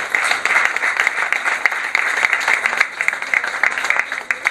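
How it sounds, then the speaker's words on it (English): Steady applause from a crowd at a Women's Day celebration, dense clapping that continues loudly and evenly throughout without pause. "Please put your hands together for a big round of applause for Aaliyah Pirzada."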